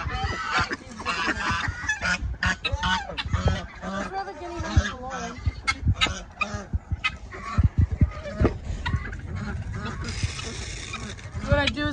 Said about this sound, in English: These are the ducks and the geese.